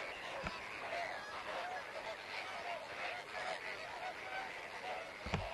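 Lesser flamingos at a misty waterhole, a faint distant flock honking and gabbling continuously, with a couple of nearer low thumps standing out against the steady chorus.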